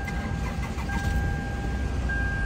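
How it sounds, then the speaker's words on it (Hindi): Toyota Camry with a PRND indicator-light wiring fault cranking and starting, then running as a low steady engine rumble up close with no voices. "दोबारा गाड़ी को मैं स्टार्ट करता हूँ"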